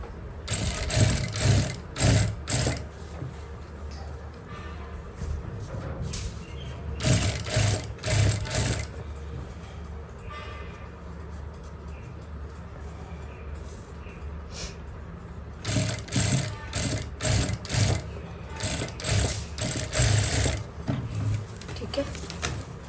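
A sewing machine stitches lace onto a salwar in three loud whirring bursts separated by quieter stretches, with someone talking between and over the runs.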